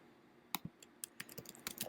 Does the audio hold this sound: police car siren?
no